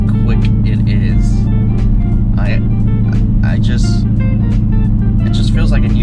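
A Mercedes-Benz CLK V8 engine rumbles steadily and loudly from inside the cabin while driving, with someone talking over it.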